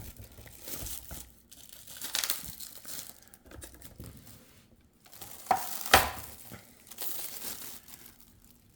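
Protective film being peeled off a Traxxas 1920's Sprint Car RC model, heard as soft crinkly tearing and crackling rustles that swell and fade in uneven bursts, close and fairly quiet.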